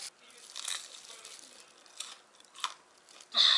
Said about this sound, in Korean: 아, 요번 튀김 또 미쳤네. 바삭함이 또 아주 그냥 살아있어, 살아있어.